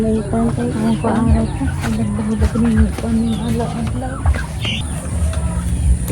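Turkeys gobble and cluck in a noisy flock with other birds calling, close and continuous, while a person talks over them.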